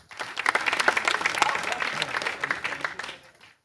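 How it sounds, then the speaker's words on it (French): Audience applause at a comedy show at a humor school, a short burst of dense clapping that rises quickly, holds, then fades out. "Applaudissez pour Gérard."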